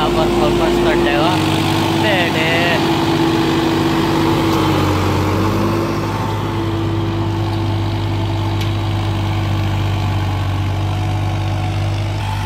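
A new Farmtrac 60 tractor engine runs loud and close, a steady low throbbing drone holding an even pitch throughout, with someone talking briefly over it.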